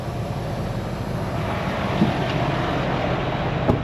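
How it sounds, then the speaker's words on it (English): Air line feeding a heavy haul truck's suspension as it airs back up, a steady broad hiss and rumble with a faint rise partway through and a couple of brief clicks. "We'll put air to the truck suspension."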